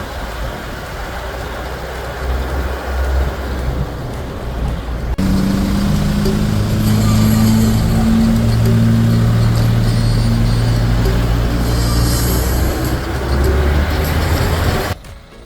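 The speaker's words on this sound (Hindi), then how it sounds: "रास्ते पूरे खराब है और बस कुछ इस तरह से जा रही है ऑफ रोडिंग करते हुए" Bus driving off-road along a badly broken road near Gokarna, its engine droning loudly and steadily over continuous rattling and rumbling from the rough surface.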